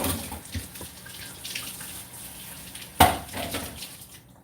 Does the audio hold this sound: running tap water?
yes